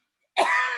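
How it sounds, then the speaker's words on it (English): A single short, raspy cough bursts out after a moment of silence, close and fairly loud, trailing off into a breathy throat-clearing sound. "Oh, please pardon my cough."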